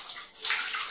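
Tap water pours and splashes steadily over a pineapple being washed, a loud, close, continuous hiss with no pauses.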